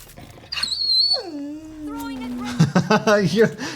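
Puppy whining in a drawn-out, rising then sliding whimper, followed by shorter wavering whines, close and clear with little else around.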